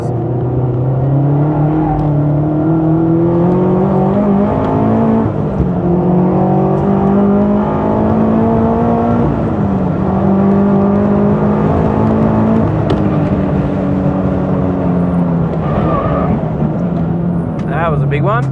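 Turbocharged 350 hp Toyota 86 time attack race car lapping Wakefield Park: a loud, continuous in-car engine drone rising and falling through gears for the whole stretch, with a driver talking over it.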